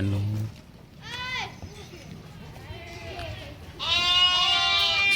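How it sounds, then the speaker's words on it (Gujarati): Goats bleat on a farm where a cow has just calved, several wavering cries near and mid-distance alongside children's voices and chatter. "આ બાજુ બકરા આવી ગયા છે"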